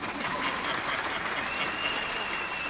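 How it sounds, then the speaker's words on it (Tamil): A dense, continuous wave of applause fills a hall at a Tamil film audio launch, many hands clapping together at an even, sustained level with a thin whistle-like tone running through it. "கைத்தட்டலாம்."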